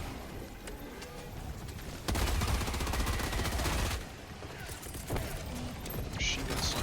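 Machine gun sentry in the Helldivers game firing in sustained dense bursts, loudest in a heavy stretch midway, with constant gunfire-like battle noise throughout and no voices.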